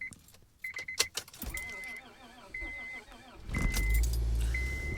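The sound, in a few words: car engine starting in freezing cold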